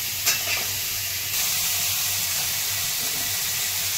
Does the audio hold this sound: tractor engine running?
no